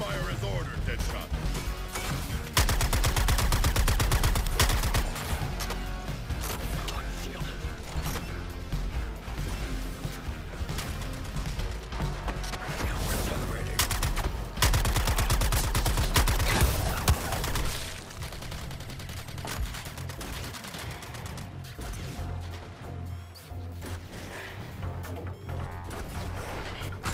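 Rapid gunfire, crashes and mechanical clatter from combat in Suicide Squad Kill the Justice League, loud in dense bursts early on and easing later, with game character voices talking throughout.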